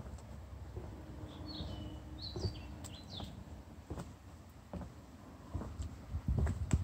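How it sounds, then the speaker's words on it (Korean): Birds chirp in short, high calls scattered over steady outdoor background noise at a wetland park in Hongje-dong, Gangneung, faint and somewhat distant, with a few soft clicks near the end. "새소리 들려요."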